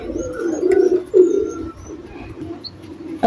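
Pigeons of a Teddy breed line coo in low, repeated throaty bursts, close and fairly loud, with faint chirps from other birds behind them.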